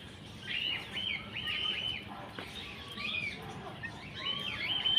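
Shrill, repeated calls of rainbow parrots ring out in bursts at a zoo in Surat, over a low murmur of background noise.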